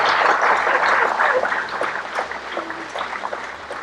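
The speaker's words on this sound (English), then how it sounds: "Give them a huge round of applause." Steady applause from a crowd, dense clapping that gradually thins and softens over a few seconds.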